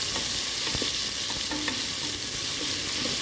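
Chopped tomatoes and long green chillies stirred in a hot pan, a constant sizzle broken by several sharp spatula clacks and scrapes, close and alone without voices.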